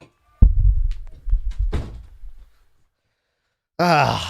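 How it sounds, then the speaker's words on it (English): A door is pushed shut indoors to block out noisy children, giving a few dull, close thuds and knocks before a moment of silence, then a voice speaks. "I'm gonna close the door."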